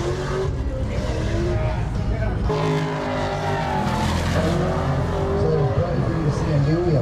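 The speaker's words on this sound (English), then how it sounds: "we got drifting in the background" Drifting cars at LS Fest Texas 2022 near Turn 14, with continuous engine roar and tire squeal carrying across a busy outdoor event, steady and fairly loud, with crowd voices mixed in.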